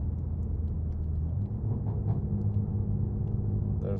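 Low, steady engine and exhaust rumble from a BMW M3 Competition idling close by, a continuous deep drone with slight fluctuations and no talking over it.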